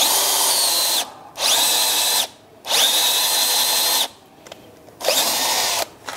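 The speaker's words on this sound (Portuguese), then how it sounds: "Fiz o pré-furo primeiro, porque isso aqui é o que a gente chama furo de rebaixo." A power drill bores a countersunk pilot hole into a wooden eave, running in three long whining bursts and a shorter fourth, each starting and stopping abruptly with brief quiet gaps between.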